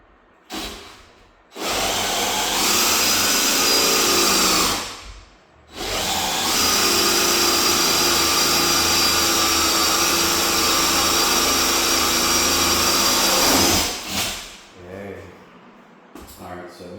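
A power drill bores through a solid 2x yellow pine board about 1.25 inches thick during a doorknob installation, whining loudly in two long runs separated by a brief pause, with the motor winding down at the end.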